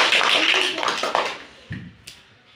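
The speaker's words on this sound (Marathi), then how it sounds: "छान, टाळ्या वाजवा एकदा आरतीसाठी।" A group of children clapping for a classmate, a burst of dense applause that tapers off into a few scattered claps.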